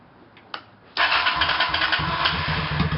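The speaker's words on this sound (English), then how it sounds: "Now let's make sure it starts up." Honda Shadow Spirit 750 motorcycle engine cranking after a spark plug replacement, a couple of clicks then firing up into a loud, steady, rumbling idle close by.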